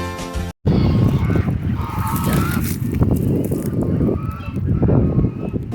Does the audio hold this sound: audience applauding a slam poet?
no